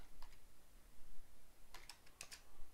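Computer keyboard typing while writing code, a few quick clustered key clicks at moderate distance, sparse and uneven over a quiet room background.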